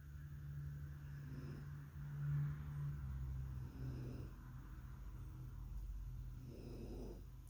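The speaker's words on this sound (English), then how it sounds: "If you're snoring, that's my dog, Brewster." Soft, slow snoring from a dog, a few drawn-out breaths rising and fading over a low steady hum, fairly quiet and close.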